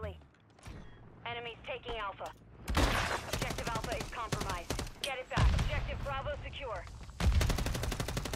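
Rapid bursts of MCW rifle fire in Call of Duty MW3 multiplayer, loud close automatic strings broken by short pauses, with a player's voice talking between and over the shots.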